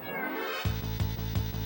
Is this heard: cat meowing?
yes